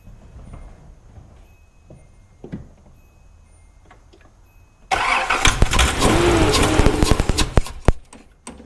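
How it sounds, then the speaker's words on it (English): A Nissan Z car with a suspected fuel problem turns over quietly with faint ticks, then suddenly catches on starting fluid and roars into a loud, rough idle that runs close and steady to the end. "she tried to start with starting fluid"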